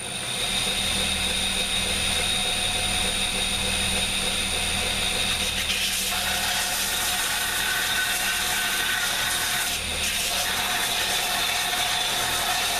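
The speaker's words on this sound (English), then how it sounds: "Just a minute on the sander." A power sander works on an old broom handle in a workshop, giving a continuous loud whirring, grinding drone whose tone shifts as pressure changes, with no talk.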